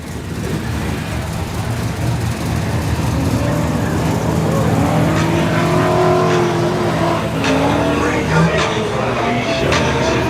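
An LS-swapped Nissan 370Z drift car revs loudly and close, its V8 rising and falling in pitch with rough, aggressive bursts, while people talk nearby.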